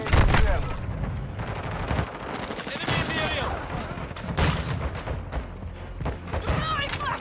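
Rapid gunfire and grenade thumps from the Modern Warfare 2 video game crackle loudly and continuously, with bursts of automatic fire and heavy thuds, while a voice shouts over the battle.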